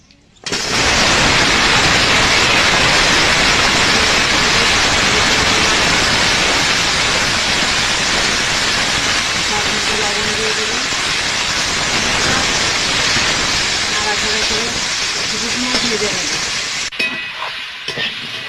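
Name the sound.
broccoli and potato frying in hot oil in a wok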